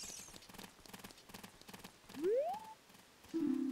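Clip-clop of horse hooves in the video game The Legend of Zelda: Ocarina of Time, a quiet, rhythmic series of hoofbeats under rising synthesized tones and a short game chime.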